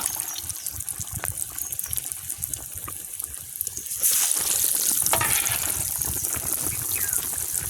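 Egg bonda frying in hot oil, a steady dense sizzle that swells louder about halfway through as fresh batter hits the pan, with faint scraping stirs underneath and no voices.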